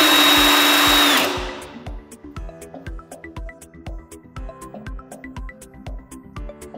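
A Parkside cordless power tool on a 12Ah Performance smart battery whirs at high speed without load for about a second, then winds down, followed by repeated low knocking clicks and rattles.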